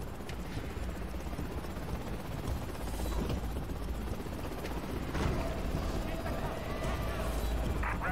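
A helicopter in the open-world action video game Prototype drones steadily throughout, a continuous rotor rumble buried in a dense wash of game noise and impacts.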